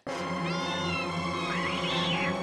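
A black cat meowing close by, one long drawn-out meow with a rising and falling tone, loud and clear against a quiet background.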